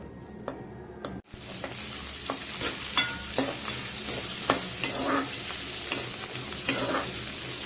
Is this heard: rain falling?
no